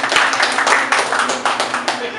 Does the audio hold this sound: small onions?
no